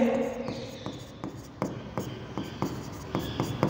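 Pen writing by hand on paper while working an accounting problem on piecemeal distribution of cash, a quick run of close scratchy strokes and taps at an irregular rhythm, with no one talking.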